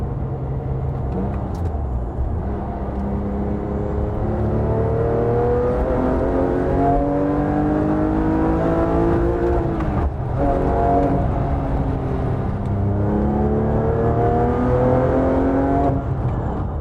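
A Porsche 997 GT3 RS engine revs up hard, pitch climbing steadily through several gear changes past 5,000 RPM, loud and close with no talking.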